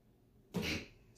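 A single sharp sneeze bursts out in a quiet yoga class, close and fairly loud, then fades into room quiet.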